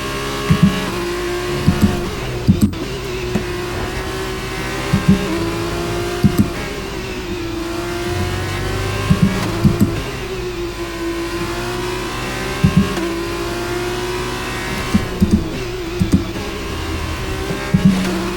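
An F2 race car in F1 23 screams around the Qatar circuit at night, the high engine note rising and falling through gear changes, with sharp clicks of upshifts and occasional tyre noise, loud and close.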